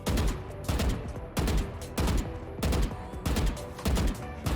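Pistol duel in Valorant or CS2, with repeated sharp gunshots landing in short clusters about every two-thirds of a second, loud and close with no voices.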